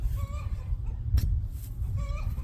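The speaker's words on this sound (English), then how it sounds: "Hey, don't mind the chickens either" Chickens cluck in short, tonal calls over a steady low rumble, with a brief sharp noise midway; the birds sound moderately close, outdoors near a garden bed on a spring day.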